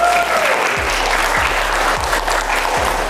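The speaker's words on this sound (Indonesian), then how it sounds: "tepuk tangan dong." Audience clapping at an Indonesian youth inspiration talk, a loud, dense, steady applause that fills the whole stretch, close and continuous, with faint voices mixed in underneath.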